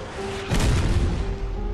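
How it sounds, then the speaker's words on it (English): A booming explosion in the video game Gears of War 3, a sudden heavy blast with a low rumbling tail over a steady background tone. "Explosion."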